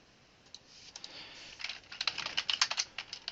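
Typing on a computer keyboard while entering a command into software, a close run of light clicking keystrokes that starts sparse and grows into quicker, denser bursts, with no talking.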